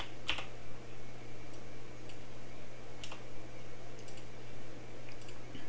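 Computer keys are pressed while zooming in on a stained glass SVG design, giving a few sharp, isolated clicks at the start and around the three-second mark over a steady low hum, with no talking.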